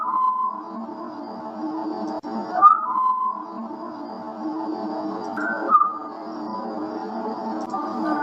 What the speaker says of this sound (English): it sounds like trying to communicate via whistle, like signals